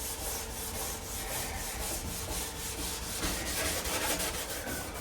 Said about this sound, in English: sand this edge of this fender